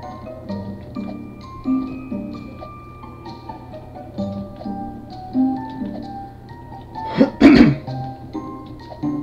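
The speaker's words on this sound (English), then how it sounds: "Sorry about the coughing, guys." Close throat clearing and a few small coughs in a quiet room, ending with one harsh, louder cough burst near the end.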